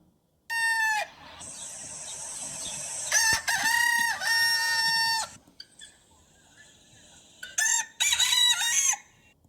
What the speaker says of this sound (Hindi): मुर्गा कैसे बोलता है ये साउंड आपको दी है